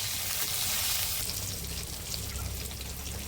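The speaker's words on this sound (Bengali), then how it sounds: "এই তেলের মধ্যেই পটল কটা ভেজে নিই। পটল ভাজার মধ্যে একটুখানি নুন দিয়ে দেবো" Pointed gourd pieces frying in oil with a pinch of salt, a soft steady sizzle and crackle at low level, heard alone.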